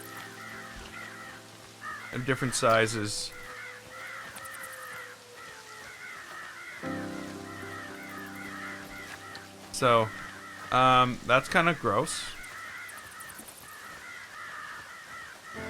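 Crows caw repeatedly in the Planet Coaster spooky pack, a steady layer of harsh calls in the background while a person talks over them.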